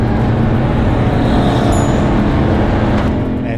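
A BMW M135i on a race track during a flying lap, heard as a loud, steady engine drone with dense road and wind roar throughout, close and continuous, with no talk.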